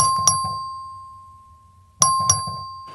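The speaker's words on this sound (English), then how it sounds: "the clerk ring the bell" Two sharp electronic bell rings sound two seconds apart in a Senate chamber during a record vote, each a bright ringing tone with a quick double strike that fades away in a quiet room.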